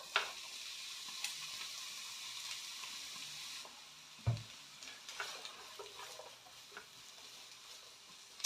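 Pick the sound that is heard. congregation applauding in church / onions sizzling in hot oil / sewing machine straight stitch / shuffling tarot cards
onions sizzling in hot oil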